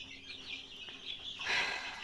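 A newly hatched chick from a home incubator peeps in short, high chirps, brightest near the end, close by and alone.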